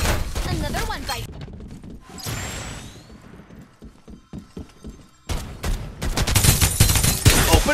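Rapid bursts of automatic gunfire and sharp impacts from the shooter game Farlight 84, loud and dense, with a lull of scattered shots before heavy firing resumes, mixed with game voice lines.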